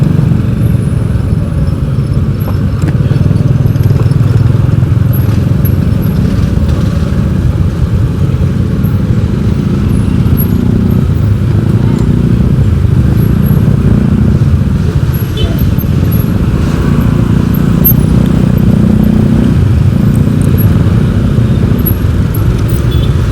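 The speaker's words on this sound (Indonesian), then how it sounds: "Macet boy di sini." Jammed road traffic with motorcycles and cars, a loud continuous rumble of engines and wind buffeting, close and steady for the whole stretch with no clear voice.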